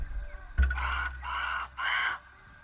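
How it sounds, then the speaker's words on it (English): A crow in a video game caws in three harsh, evenly spaced calls after a sudden low thump, loud and close with no talking over it. "Jeez, that crow scares me."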